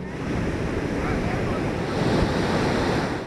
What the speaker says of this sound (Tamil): மறுபுறம் நேர் எதிராக அலைகள் ஆக்ரோஷமாக ஊருக்குள் பாய்கிறது.